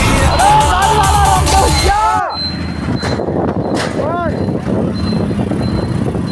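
A dense crowd fills the road ahead, a steady hubbub of many voices under loud traffic noise and wind, with swooping horn-like tones near the start and again around the middle.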